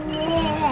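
Telephone ringing in a home, a short electronic ring tone with bright tonal bursts heard at moderate level, very brief.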